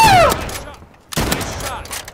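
Gunfire in the free online shooter Battalion Legacy: two loud, close bursts of shots separated by a short lull, with a faint whistling tone fading at the start and speech in the background.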